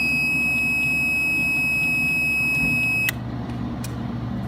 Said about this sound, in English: When the laser is started without water flow, an alarm will sound.